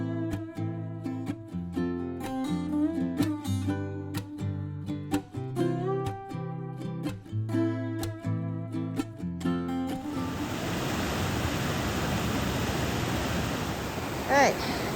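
Swollen Bubbs Creek rushes loudly at the trail crossing after heavy rain, a dense steady roar of water that takes over after a stretch of tonal music.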